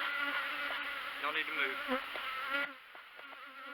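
Bees buzzing up close, a loud steady insect drone in the first part that drops away suddenly partway through, with a person speaking briefly over it.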